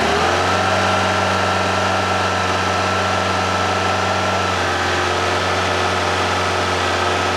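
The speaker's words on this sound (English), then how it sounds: "You can see how much my engine hunts around. Look, it really does hunt a bit." A Fiat Panda 4x4 Sisley engine idles close by with a steady, loud hum and a droning whine, one tone dropping out partway through, with no talking.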